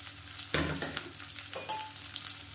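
Shallots and big green chillies sauté in a pan with a steady, close sizzle, broken by a few sharp stirring scrapes and clatters.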